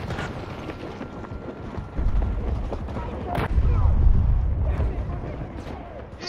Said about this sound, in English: My own tank blew me up.